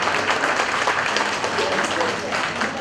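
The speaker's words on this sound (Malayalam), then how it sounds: "ഒരു കയ്യടി കൊടുക്കുക അല്ലേ." Applause from a crowd at a Thrissur community felicitation event honouring three donors. Dense, steady clapping fills the whole stretch at moderate loudness, with a faint murmur of voices beneath it.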